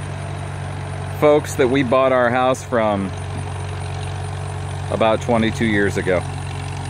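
A 1941 Farmall H tractor idles in a steady low rumble throughout, with someone talking over it at close range.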